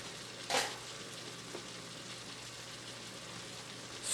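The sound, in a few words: peppers frying in a pan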